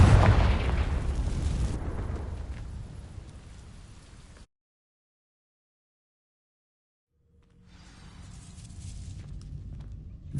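A Confringo fire-blast spell in Hogwarts Legacy, a loud boom that bursts and decays over several seconds, then silence before crackling, rumbling sound returns.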